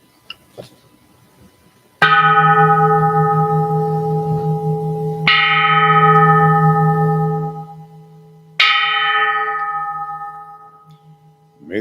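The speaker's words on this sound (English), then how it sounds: "May the sound of this bell penetrate deeply into the cosmos." A Buddhist temple bell is struck three times for a bell chant, each loud, deep strike ringing out with a long, shimmering decay before the next, heard alone.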